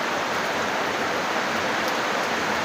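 Heavy rain pours in a dense, unbroken roar, driven by strong wind, loud and steady throughout with no voices.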